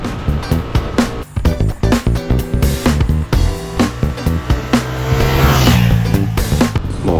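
A twin-cylinder Honda XL750 Transalp motorcycle engine revs in quick bursts, then pulls into a long, rising acceleration, loud and close.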